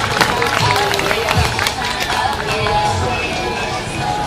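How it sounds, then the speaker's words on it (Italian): A crowd at the Varzi fair claps steadily in a dense, continuous wash of applause, heard close and fairly loud, with a voice talking over it. "un altro applauso, così ci scaldiamo"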